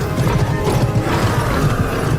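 A horse in a Total War Warhammer cinematic trailer, a loud dense sequence of rhythmic hoof clip-clops and rattling tack under a full battle soundscape.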